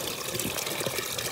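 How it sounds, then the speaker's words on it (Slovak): Spring water trickles and gurgles in a forest, a close, steady bright splashing flow with no voices. "Tam tečie vodička."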